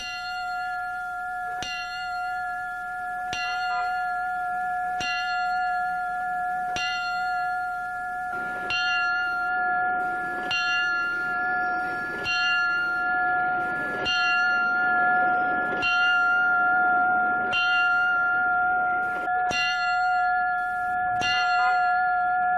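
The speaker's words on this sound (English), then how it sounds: "They're going to be ringing that bell you were talking about earlier when the procession comes by here. It's called Sounding the Last Alarm." A fire station bell strikes a slow, steady series of about a dozen loud, ringing tolls, each with a long sustained hum, sounded as the Last Alarm for a firefighter's funeral procession; no voices are heard.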